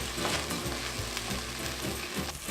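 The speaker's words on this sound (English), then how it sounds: "So now we're going to add 1/4 cup of white wine. We're going to deglaze all of this." White wine hitting a hot risotto pan to deglaze it, a steady, bright sizzle and bubbling hiss that holds evenly throughout, with light scraping of the pan.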